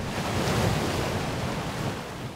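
Waves washing onto a rocky ocean coastline in Rhode Island at sunrise, a steady broad rush of surf with wind noise, fairly close and continuous.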